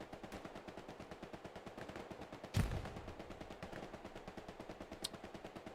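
A machine gun fires in Hell Let Loose, a rapid, steady stream of shots at an even rhythm, fairly faint and distant, with one heavier bang midway.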